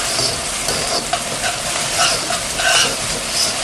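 Vegetables fry and get stirred in a carbon steel wok, a steady close sizzle with scraping stir strokes and brief clinks rising through it, no voices.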